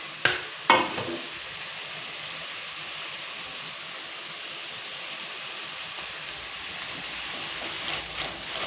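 Paya curry simmering and frying in a pan, a steady even sizzle and bubbling hiss that carries on throughout, with a couple of sharp clicks near the start.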